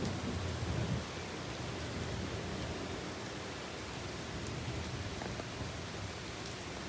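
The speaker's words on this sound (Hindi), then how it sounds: "अभी खतरनाक बारिश स्टार्ट हो चुकी है" Heavy rain pours down in a steady, dense hiss, constant throughout with no other sounds.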